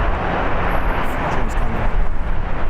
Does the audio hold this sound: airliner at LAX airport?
yes